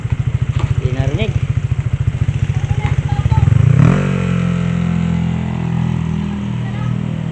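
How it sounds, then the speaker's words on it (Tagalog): A small scooter engine putters in quick, regular pulses, then revs into a smoother, louder drone that holds steady, a throaty muffler exhaust close by at a street 3x3 basketball game. "Yung muffler ng kanilang scooter."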